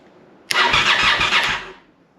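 A Honda Superhawk motorcycle's electric starter cranks the engine in one close, loud burst of about a second before fading out.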